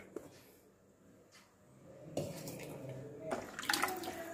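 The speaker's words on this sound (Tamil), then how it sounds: "தண்ணி சேர்த்திட்டு நல்லா கிண்டி விட்டாச்சு" Water is poured into a pot of goat trotter paya and stirred, giving soft splashing and sloshing bursts against quiet background, with louder pouring and clattering stirring toward the end.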